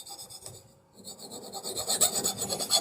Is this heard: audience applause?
no